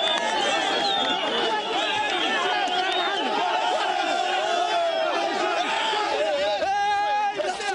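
Crowd of protesters massed in the street, dense overlapping shouts, chants and whoops carrying steadily throughout, loud and close.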